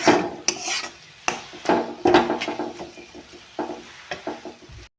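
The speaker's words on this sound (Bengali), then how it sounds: "এখন ভালো করে নাড়িয়ে চাড়িয়ে নেব নাড়িয়ে চাড়িয়ে অল্প টাইম রাখবো" Greens (shak) being stirred in a cooking pan for a Bengali recipe, heard as close, irregular scraping and rubbing strokes of a spatula against the pan, with a few sharper knocks and no talking.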